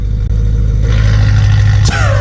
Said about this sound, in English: this is the idle with the valves open